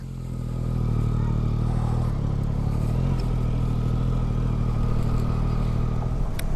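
A Yamaha MT09SP motorcycle pulls away, its engine note rising from quiet into a steady, close droning hum as it gets under way, with wind rush over the top.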